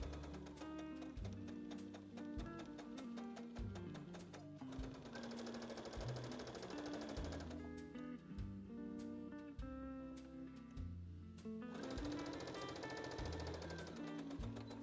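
A sewing machine stitches along the top edge of a fabric yoke for a bow tie top, running loud and continuous with a rapid rhythmic needle thump and a brief slowdown midway.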